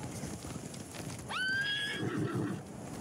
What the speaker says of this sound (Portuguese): Os malditos espantaram os cavalos. São cavalos de samurai, treinados para voltar para seus mestres.